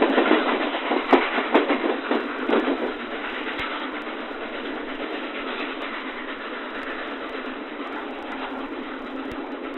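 Nickel Plate Road 765 steam excursion train pulling out of Chicago, a steady rolling rumble with clattering wheels that starts louder and settles into an even, continuous roar, no voices.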